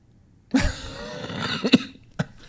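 A person coughs a few times up close, short harsh bursts with brief pauses between them.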